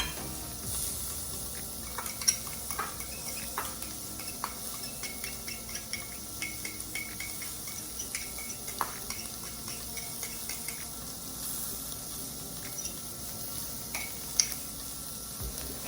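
Chopped meat for chopped cheese sears in a pan with a steady close sizzle, broken by frequent light scrapes and clinks of a utensil stirring and flipping. No one talks.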